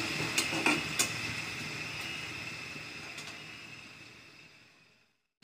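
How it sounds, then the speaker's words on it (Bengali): Onion and green chillies frying in a pan, with a steady close sizzle and a few sharp clinks of a utensil against the pan early on, fading off near the end. "পেঁয়াজ কাঁচামরিচ ভালো করে ভেজে নিচ্ছি"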